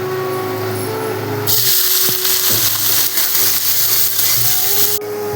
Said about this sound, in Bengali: চপিং করা পেঁয়াজগুলো এখন আমি তেলের মধ্যে দিয়ে দেবো।